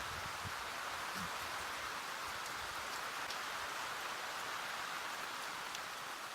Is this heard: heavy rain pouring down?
yes